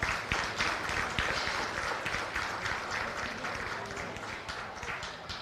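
Applause for young exhibitors at a county fair goat show, a steady patter of clapping from a crowd, fairly faint and distant, with a few brief claps standing out.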